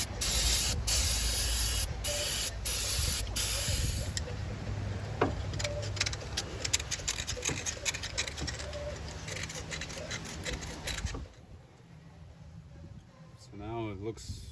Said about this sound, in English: a carb cleaner.